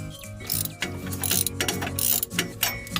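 A ratchet tightens exhaust bolts on a 1998 Sierra with a 5.7L Vortec, after an exhaust dump gasket job. Rapid, close metallic clicking runs continuously in short bursts with no talking.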